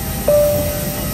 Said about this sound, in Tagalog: I am inside the airplane now